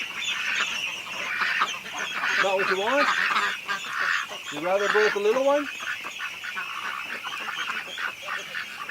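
Ducks calling at a gate, with honking, quacking bursts in short clustered runs, close and fairly loud, over steady background chatter; someone talks throughout.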